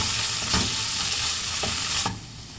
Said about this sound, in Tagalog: Gigisa na natin ang ating kamatis.